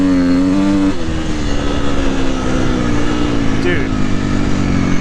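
A KTM 350XCF dirt bike engine screams at high revs into its over-rev, loud and close with a shifting pitch, while a rider's voice briefly breaks in over it.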